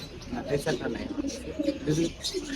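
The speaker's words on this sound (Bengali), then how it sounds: "কিং ছাড়া আপনার কাছে কি রেসার কবুতর আছে" Pigeons coo at a bird shop in Tongi that sells king and racer pigeons, repeated low murmuring coos with a few higher chirps, close by and mixed with background shop noise.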